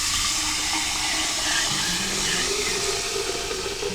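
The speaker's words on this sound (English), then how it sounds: "So now I'm going to pour this stuff into here." Hot melted bear fat oil being poured into a container, a steady continuous watery hiss and rush that holds at even loudness throughout, close up with no talking.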